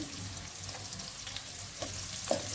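Flat beans fry with onion in a pan, making a soft, steady sizzle with occasional faint pops and clicks from nearby, quiet and unbroken.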